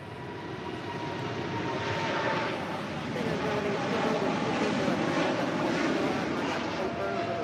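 A super Airbus airliner departs runway 25 right at LAX, its engines making a steady broadband roar that holds at one level throughout, with faint voices in the background.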